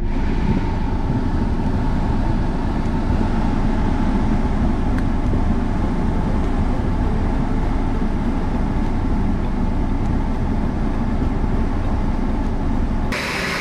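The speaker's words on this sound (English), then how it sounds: "turn the AC on full tilt" A 2008 Ford Escape engine runs steadily with its air conditioning blasting on full, a loud continuous broadband rumble and blower roar that holds unchanged for the whole stretch before cutting off abruptly at the end.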